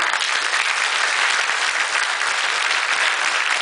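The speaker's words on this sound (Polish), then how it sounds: "bardzo proszę o oklaski dla pani Darii Paterek i Agnieszki Siemińskiej" Dense, continuous applause from a crowd at a thank-you ceremony honoring two women, a steady roar of many hands clapping at even loudness throughout.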